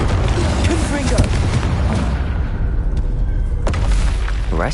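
The Confringo explosive spell goes off in Hogwarts Legacy during spell-casting combat, giving a dense, heavy rumble of booming blasts that fills the whole moment. A voice can be heard over the din.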